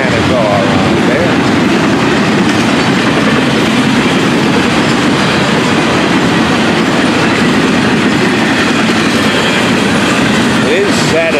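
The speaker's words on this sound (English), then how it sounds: "Oh, this train in a rush to get home." A long freight train from the Florida East Coast railway rolls past nearby early on a Saturday morning, a steady loud rumble of wheels with clickety-clack over the rail joints that continues throughout.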